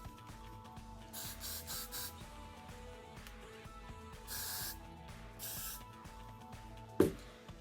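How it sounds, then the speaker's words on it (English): Several hissing bursts from a can of Gatsby hair spray as a braid is styled, short sprays spaced across the clip with a longer one midway, followed by a sharp close knock near the end. "I just use the Gatsby spray"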